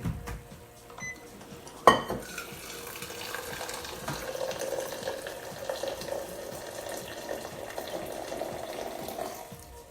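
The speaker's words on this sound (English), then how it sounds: "So I put about a cup of hot water in there" Hot water pours steadily into a bowl with a soft, continuous trickle, following a single sharp clink near the start.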